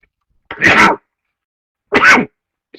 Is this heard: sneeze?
yes